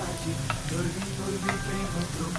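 Boondi for laddu frying in hot oil, a dense continuous sizzle with light stirring clinks at a steady level, close and alone.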